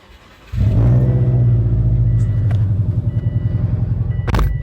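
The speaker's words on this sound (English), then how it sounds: "what you want to do is start the car right here." A car engine cranks and catches after a half-second pause, then settles into a loud, steady low idle rumble close by, with a short click near the end.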